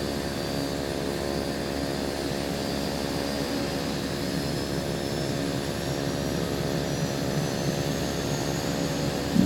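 Steady droning of a Beechcraft Duke's piston engines and propellers in a flight simulator as the second engine comes up to speed, a continuous even roar with a faint rising whine, no voices.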